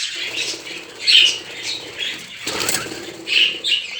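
Budgerigars flutter and flap their wings nearby in repeated busy bursts in an indoor breeding room, with faint chirps and squawks mixed in.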